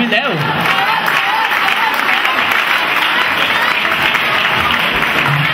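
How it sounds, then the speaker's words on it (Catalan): Steady, loud audience applause at the Palafolls pubillatge election ceremony, a dense unbroken wash of clapping from a crowd, with a few voices mixed in. "Un aplaudiment per la nova pobilla de Palafolls 2010"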